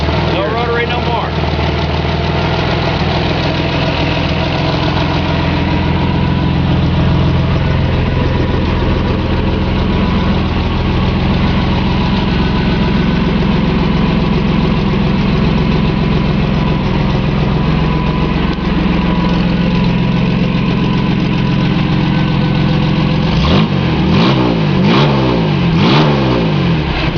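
A Ford 2.8 V6 fitted in a 1974 Mazda rotary pickup truck runs steadily, a loud close engine rumble throughout with a few revs, while someone talks over it.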